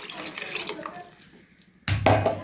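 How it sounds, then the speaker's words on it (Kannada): Water poured from a tap or jug into a pot of sambar, a sudden loud splashing pour starting near the end after a stretch of quieter kitchen background. "ನೆಕ್ಸ್ಟು ನನಗೆ ಎಷ್ಟು ಬೇಕಷ್ಟು ನೀರು ಹಾಕೋಬೇಕು."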